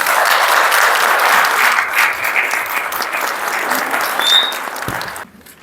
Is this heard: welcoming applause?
yes